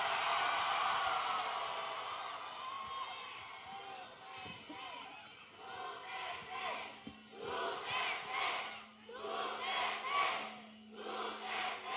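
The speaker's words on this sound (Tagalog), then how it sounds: "Grabe hiyawan, no?" A large crowd roars, shouts and cheers at a political rally in the Philippines, loud and sustained, with surging waves of yelling and a few deeper rhythmic chant-like bursts toward the end.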